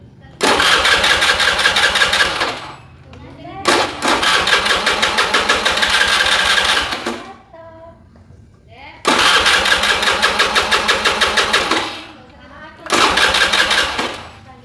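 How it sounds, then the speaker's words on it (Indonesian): A Honda Beat FI scooter with an ignition fault fires up and idles in four loud bursts, each cutting off into short quiet gaps with small mechanical ticks between runs. "Coba kita akan nyalakan motornya ya."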